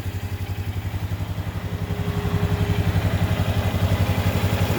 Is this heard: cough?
no